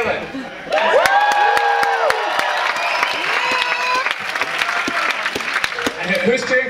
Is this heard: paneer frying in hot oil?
no